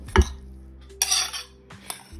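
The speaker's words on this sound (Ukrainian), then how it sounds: "Тепер її можна змішувати із фаршем і вже починати смажити." Utensils clinking against a bowl while chopped onion is mixed into minced pork for cutlets, a few sharp metallic taps and scraping strokes close up in a quiet kitchen.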